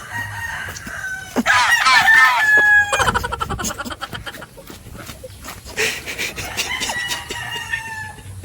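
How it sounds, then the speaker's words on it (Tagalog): A rooster crows loudly and nearby, with chickens clucking and squawking around it in short irregular bursts. No one speaks. "ito na yung manok"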